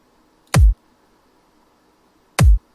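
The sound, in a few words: kick drum sample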